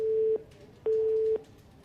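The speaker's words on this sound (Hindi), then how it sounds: "उन्होंने आवाज सुनते ही फोन काट दिया" A phone busy tone sounds after a call is hung up, two steady beeps with a short gap between them, loud and clear over faint background hiss.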